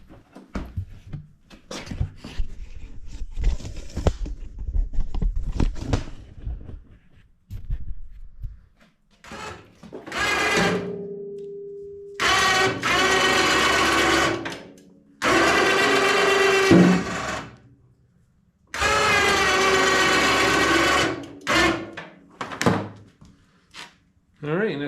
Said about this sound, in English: We get the winch on there.